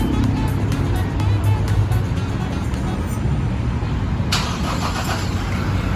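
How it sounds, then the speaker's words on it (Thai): Toyota Revo pickup engine starting by remote start, a continuous engine rumble running steadily throughout at close range, with a brief brighter burst of noise near the end. "เครื่องยนต์ก็จะสตาร์ทติดนะครับ"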